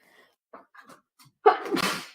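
A single loud, close sneeze bursts out after a few faint murmurs and small sounds.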